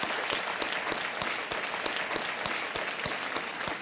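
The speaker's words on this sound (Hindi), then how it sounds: "तालियों के साथ कमलेश जी का स्वागत किया जाए" A television quiz show studio audience gives a contestant a warm welcome with sustained, even applause, full and dense from start to finish.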